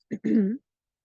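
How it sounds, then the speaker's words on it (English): A single short throat clearing close up, a quick rough catch followed by a longer gravelly rumble, then silence. "So I invite you to clear your throat."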